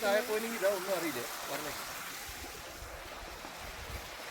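Steady rushing water fills the background, a broad continuous wash with a voice speaking over it at the start.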